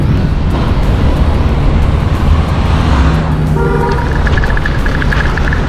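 Slow-moving road traffic on Old Madras Road near construction work, a steady broadband engine and tyre rumble throughout, with a short horn toot near the middle and a brief high-pitched tooting burst late on.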